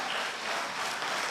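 A church congregation at a worship service clapping for God, a dense, loud wash of many hands applauding together, filling the space evenly through the brief moment.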